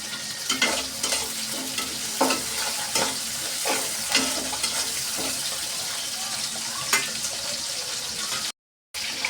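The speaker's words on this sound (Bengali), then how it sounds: "পেঁয়াজটা একটু ভাজা হয়ে গেছে" Onions with salt frying in a pan while being stirred: a steady close sizzle broken by repeated scraping strokes of a spoon, with a brief drop to silence near the end.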